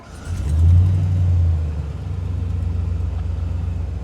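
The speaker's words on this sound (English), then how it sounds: "I do like the sound of your engine though." A 1951 Chevy Styleline Deluxe hot rod engine revs up with a deep rumbling surge, then settles into a steady low idle rumble.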